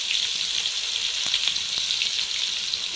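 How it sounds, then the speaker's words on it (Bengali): Eggplant frying gently in a pan over a low wood fire, a steady close sizzle with a few faint scrapes and taps, no voices. "আস্তে আস্তে ভাজবো"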